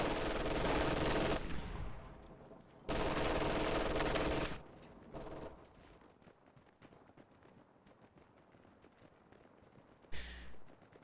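Bursts of machine gun fire crackle in a strategy video game, two long sustained volleys separated by brief gaps, then quieter scattered battle noise and a short final burst.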